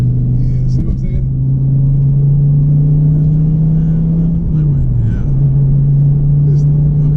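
A Dodge Viper muscle car engine drones steadily from inside the cabin, a loud low rumble that dips briefly in pitch as the car eases through a roundabout, with people talking faintly over it.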